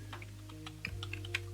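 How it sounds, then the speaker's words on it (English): Quick, light clicks of fast typing on a computer keyboard during web coding, a brief close run of keystrokes over a steady low hum. "Just faster typing"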